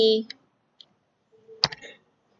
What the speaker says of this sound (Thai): เวลาคลิกขวา